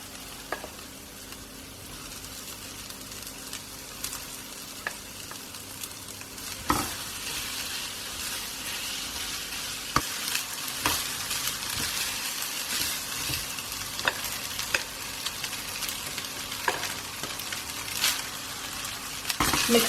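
Rice being stir-fried with mint in a pan for mint fried rice, a steady bed of frying sizzle with repeated scraping and stirring strokes of a utensil, close and fairly loud, no one talking.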